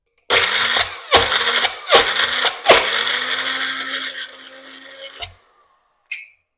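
A manual pull-cord food chopper crushes cookies in a few loud, rough whirring bursts, each pull a short grinding rush with clacks, the last spin winding down before a brief faint click.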